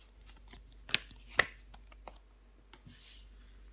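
Tarot cards are laid down on a table, one dropping over another, giving a few soft, close taps and slaps in a quiet room during a reading.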